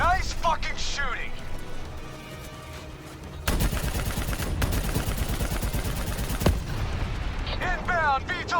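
Heavy gunfire during the Black Ops 3 campaign, sustained bursts of automatic weapons and explosions from an APC battle in a moving vehicle, loud and dense, with shouted voices over the top.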